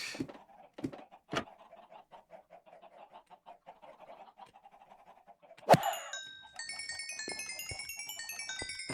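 Minecraft chickens cluck in a quick, soft series of short calls, followed by a sharp pop and a run of bright, bubbly pickup chimes.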